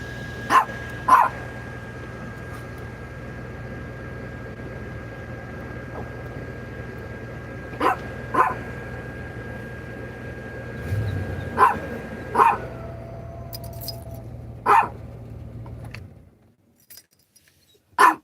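A dog named Chico barks in short sharp bursts spaced over several seconds, loud and close, over a low steady hum that cuts out near the end.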